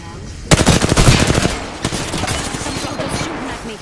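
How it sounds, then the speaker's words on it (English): In Apex Legends, soldiers fire at the player. Loud, close automatic gunfire comes in a rapid rattling burst, then fainter scattered shots and echoing fire follow. "Some soldiers shooting at me. Taking fire."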